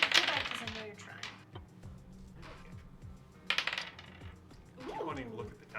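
Dice rolled during a tabletop game, with several quick bursts of light clattering and clicking as they tumble and settle, near and fairly quiet, with faint talk at the table.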